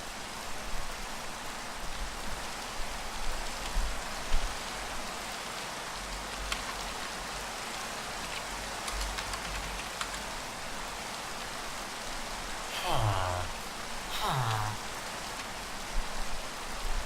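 In-game Minecraft rain hisses steadily and softly throughout, with a couple of brief swooping tones near the end.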